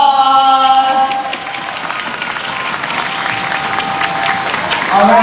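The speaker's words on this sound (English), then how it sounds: "please give these ladies a big round of applause." Crowd applause fills a sports hall after a netball semi-final between Singapore and Thailand at the 2017 SEA Games, loud and steady, with a few faint voices and cheers mixed in.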